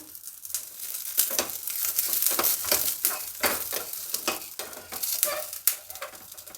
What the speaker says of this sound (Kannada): ಸಣ್ಣ ಉರಿಲಿಟ್ಕೊಂಡು ಹುರಿಬೇಕು ಒಂದು ಹತ್ತು ಹೆಸರು ಬೆಳ್ಳುಳ್ಳಿ ಎರಡು ಹಸಿಮೆಣಸಿನ್ಕಾಯಿ